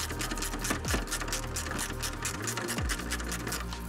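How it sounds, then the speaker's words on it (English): An 8mm ratchet spanner works grille bolts loose on a 2023+ Ford Ranger, giving a rapid, steady clicking ratchet chatter close up, with a couple of brief squeaky scrapes. "So we use our 8mm ratchet spanner."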